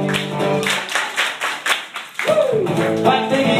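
Hand clapping in a children's song, a series of roughly eight sharp, close claps in a steady beat, set against a sung melody and voices.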